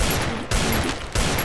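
Rapid gunfire in the mobile battle-royale game Free Fire, a dense continuous burst of loud shots that briefly drops then resumes twice over a second and a half, with no voices.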